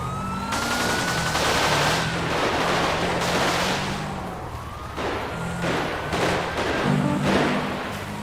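A gunfight in GTA V roleplay: dense bursts of gunfire mixed with a wailing police siren, continuous and loud over several seconds, the shots rising and falling in intensity.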